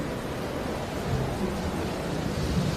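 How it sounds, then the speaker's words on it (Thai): Heavy rain from a thunderstorm pours steadily as a story sound effect: a dense, even hiss with a low rumble underneath throughout. "แล้วมันก็ปล่อยฝนให้ตกลงมาอย่างหนัก จนกลายเป็นพายุฝนขนาดย่อมไปทั่วบริเวณ"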